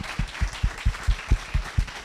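Audience at an author reading clapping in a slow, evenly spaced rhythm, about nine distinct claps in two seconds, close and clear with no talk over them.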